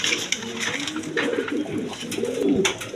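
A pair of fresh Indian Kaldom pigeons, one crested and one plain-headed, coo close by in repeated rolling, throaty phrases that swell and fade, with no talking.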